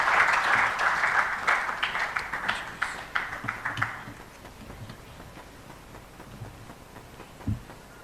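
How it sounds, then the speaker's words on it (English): An audience at a formal event on waste management and sanitation in Ghana applauds to welcome a speaker, with dense clapping at first that thins into scattered claps and fades out near the end. "Let's welcome Professor Peter Korte with a round of applause."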